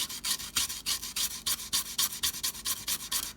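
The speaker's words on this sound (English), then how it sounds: "These sanding pens are something for this kind of thing." A sanding pen rubs super glue residue off a car body on a 1970 Plymouth stock car, giving quick rhythmic rasping strokes, about four per second, close and fairly quiet.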